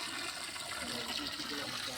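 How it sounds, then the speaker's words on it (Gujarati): Well water gushes under pressure from a long hose pipe into a marigold bed in a temple garden, making a steady, close rushing sound with no clear speech. "તો જો પાણીની પ્રેશર આવે છે, ગલગોટામાં મૂક્યું છે હાલ પાણી."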